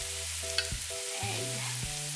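Egg poured over bitter gourd sizzles in a frying pan for an omelette, with a steady hiss and some stirring.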